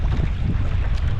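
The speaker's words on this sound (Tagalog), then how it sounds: "Ang lakas ng hangin." Strong wind roars steadily on a fishing boat at sea with heavy low rumble and buffeting, mixed with water and boat noise, loud and continuous.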